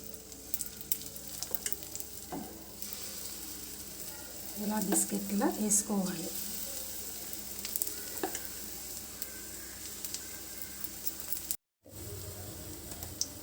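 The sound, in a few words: batter frying in ghee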